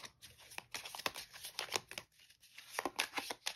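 Action cards for the Ju 87 Stuka Ace board game are shuffled by hand: a quick series of close, crisp papery riffles and taps in uneven bursts, with no voices.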